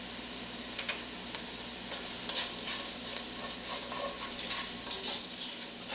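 Black pepper and celery seeds cooking in a hot pan, a continuous close sizzle with light scraping and stirring sounds over six seconds, no voices.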